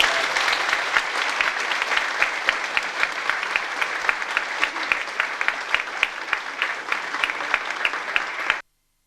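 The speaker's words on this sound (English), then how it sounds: "would you give them a warm round of applause?" Warm applause from a studio audience for the performers at the close of a local TV music programme, steady sustained clapping that cuts off abruptly at the end.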